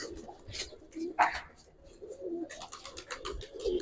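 Giribaz pigeons in a loft give a steady, low murmur of cooing, moderately near, mixed with faint rustling and scratching and a brief sharper call partway through.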